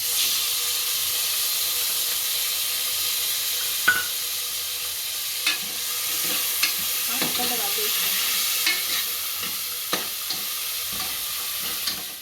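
Tomatoes sizzle in a hot pan for dal khichdi: a continuous close frying hiss punctuated by occasional sharp spoon taps and stirring scrapes.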